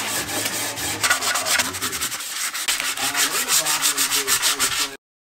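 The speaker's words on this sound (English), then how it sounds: "Let's sand and then clean up the place." Wood for a truck bed camper is sanded indoors, with steady, close rasping strokes in a quick back-and-forth rhythm for about five seconds before stopping abruptly, with no talking.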